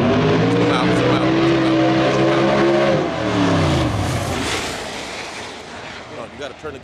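Drag race cars launch and rev hard at the line, with loud rising engine tones and tire noise that swell and then fade into a rushing roar as they pull away, while voices talk nearby.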